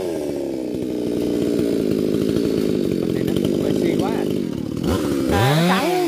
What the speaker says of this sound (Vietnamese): Bây giờ sẽ cưa bỏ cây mít.